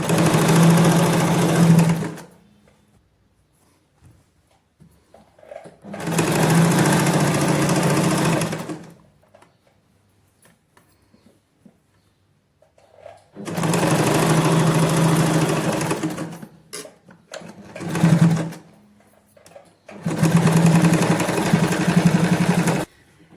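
A sewing machine stitches the side seam of palazzo trousers in four long, loud, steady runs and one short burst, each stopping abruptly into near silence between passes, close up and without talk.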